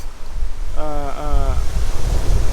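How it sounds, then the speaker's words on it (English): Ocean waves crash and hiss on the rocky coast of Madeira in a steady, close, rumbling wash with wind noise, and a brief tonal call rises above the surf midway through. "so I can have some action when the waves crash on the water"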